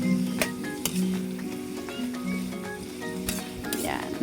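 Adobong sitaw, string beans in a pan, sizzles steadily while a spoon stirs with occasional metallic clinks against the pan, set against a faint, busy background.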